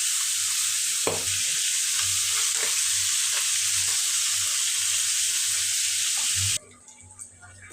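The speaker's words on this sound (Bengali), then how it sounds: "এখানে ট্যাংরা মাছ ধুয়ে পরিষ্কার করে আমি হলুদ লবণ সামান্য একটু মরিচের গুঁড়া দিয়ে মেখে এখন ভেজে নেব" Tengra fish coated in turmeric, salt and chili powder frying in a pan, a loud continuous sizzle with faint stirring bumps that drops away abruptly near the end.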